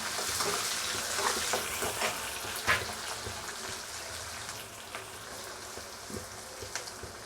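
Onions and garlic sautéing in a pan for tamarind rice, a steady soft sizzle with scattered stirring scrapes and clicks, close and fairly quiet, with no talking.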